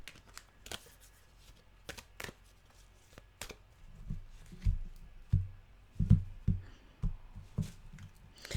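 Tarot cards are shuffled by hand in a quiet room, with a few soft riffles early and then a run of closer, louder slaps and shuffles toward the end.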